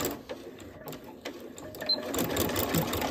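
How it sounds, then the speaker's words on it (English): A sewing machine stitches straps onto a thick-fabric tote bag, its motor humming steadily in short runs forward and back at close range, with no talking. "I go a few stitches forward and then I reverse and then I continue on."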